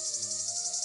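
A male cicada sends out its mating call as a steady, high, buzzing drone, close and even throughout, with a faint pulsing texture and no voices.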